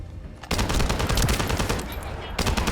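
Rapid automatic gunfire in the shooter game The First Descendant, a dense loud burst of shots that starts abruptly and rattles on continuously for about two seconds.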